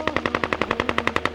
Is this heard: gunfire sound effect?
yes